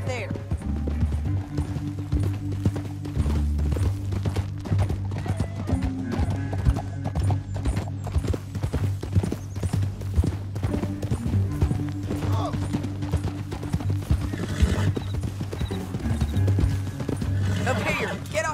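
Horse hooves clip-clop steadily in Red Dead Redemption 2 on a canyon trail, an occasional whinny mixed in, sitting under a constant musical score and the voices of characters talking throughout.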